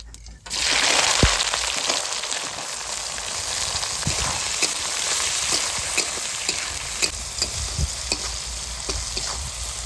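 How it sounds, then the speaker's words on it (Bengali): Onions sizzle steadily in hot oil with whole cumin seeds, a dense, continuous crackling fry close by, with occasional clicks of stirring throughout. "পেঁয়াজ একটু ভেজে নিয়েছি"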